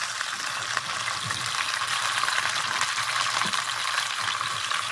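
Chicken pieces searing in a hot pan, a steady bright sizzle with occasional pops of splatter, continuous and close with no talking.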